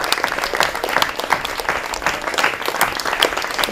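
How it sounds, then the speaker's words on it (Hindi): Sustained, fairly loud applause from an audience welcoming children coming forward to receive certificates at a Hindi theatre academy event, steady dense clapping with a little crowd murmur. "कृपया जोरदार तालियों से इनका स्वागत कीजिए।"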